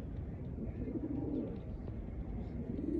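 Old line pigeons cooing close by, soft low throaty coos rolling on steadily over a constant background murmur, with no talking.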